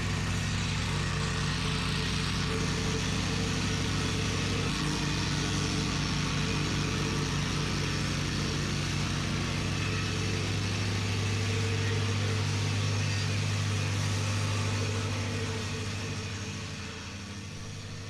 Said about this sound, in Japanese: エンジンの回転数が上がって動き出すと